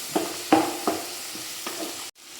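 Tomato being sautéed in a pan with turmeric and salt, a few close scraping stirs with a spoon over a soft steady sizzle, then a sudden cut to near silence.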